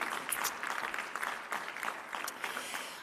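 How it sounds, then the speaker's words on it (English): A conference plenary audience gives a brief, moderately loud burst of applause, with a dense, even texture from many hands clapping. "Can we have another round of applause for Gerard Silje?"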